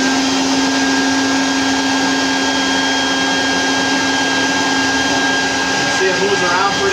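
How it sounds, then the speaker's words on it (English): A vacuum cleaner motor powers a homemade hovercraft air car, giving a loud, steady whine and rush of air that holds constant throughout, with a slight change in pitch near the end. "So basically what I'm going to do is just turn the vacuum on."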